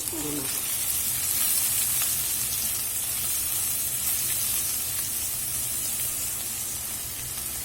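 Chicken and onions fry in a pan for a chicken roast, giving a dense, steady sizzle and crackle that stays loud and even throughout, with faint stirring and no speech.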